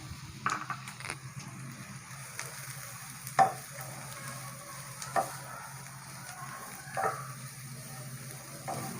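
Boiled, shredded chicken frying in a pan with a steady low sizzle, broken by a few sharper stirring clinks and scrapes, close and moderately loud with no talk.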